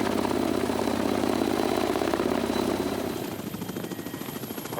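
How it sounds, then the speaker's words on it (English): A Canadian Air Force helicopter sits idling near glaciers in the Yukon, its steady rotor and turbine drone loud and continuous before easing slightly toward the end. "the Canadian Air Force chopper was sitting there idling"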